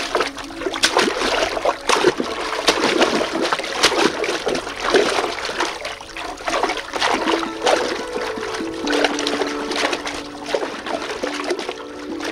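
Children splashing while playing in water, with ongoing splashes, trickles and sloshing that rise and fall in busy bursts at close range, over a faint background of voices.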